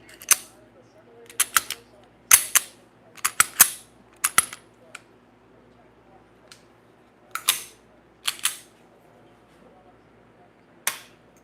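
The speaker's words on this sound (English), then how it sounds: "I'm just practicing some of my dry fire." Sharp mechanical clicks from a pistol being dry fired during practice, irregular single and clustered snaps spaced over quiet pauses, close and crisp.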